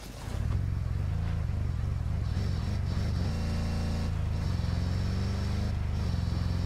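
A car engine droning steadily while driving in the video game Ghost Recon Breakpoint, loud and close, with the pitch shifting as the vehicle revs and shifts gears and no talking over it.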